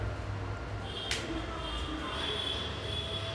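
A passenger train just starting to move rumbles low and steady from inside a carriage, with a brief sharp clank and a faint high squeal.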